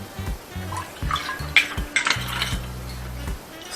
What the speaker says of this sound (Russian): Наливаем, как положено, виски чуть-чуть